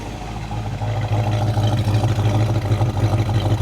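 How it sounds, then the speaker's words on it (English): A 1968 Ford Mustang luxury convertible with GT options and dual exhaust with GT tips idles steadily, a deep, continuous low rumble with a throbbing pulse, close and loud throughout. "come on back and listen to the exhaust note"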